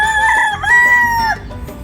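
A rooster crowing on a street in Ybor City, one loud drawn-out cock-a-doodle-doo close by, rising and then falling away over about a second and a half above light street noise.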